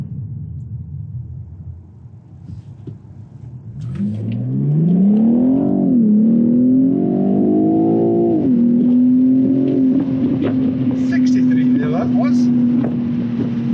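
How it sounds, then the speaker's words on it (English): A BMW 840i Convertible pulls away hard from rest, its engine note climbing steeply then settling into a strong sustained drone with wind rush, loud and close, after a brief quieter idle. "Now I did say that this car could accelerate 0 to 60 5 seconds"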